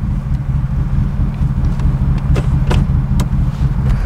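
A 1978 Ford Thunderbird Diamond Jubilee Edition engine idles steadily with a deep low rumble, close and continuous, with a few faint clicks over it and no talking.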